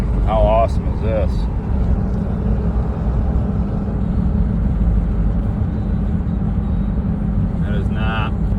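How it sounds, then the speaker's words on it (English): A car driving on the road, a loud steady low engine-and-tire rumble heard from inside, with a brief voice near the start and again at the end. "Driving to work."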